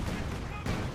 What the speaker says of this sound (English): Panzer IV firing.